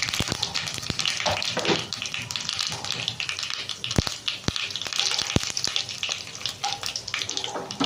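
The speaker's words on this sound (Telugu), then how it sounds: "కొంచెం శనగపప్పు, అలాగే కొంచెం ఉద్దిపప్పు, అలాగే కొంచెం జీలకర్ర, 2 ఎండుమిర్చి." Chana dal, urad dal, cumin and dry red chillies fry in hot oil, making a steady close sizzle with scattered pops and crackles throughout.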